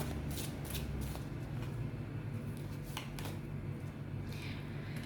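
Tarot cards being shuffled and drawn by hand, a soft riffling rustle with several brief flicks, faint and close over steady background hiss.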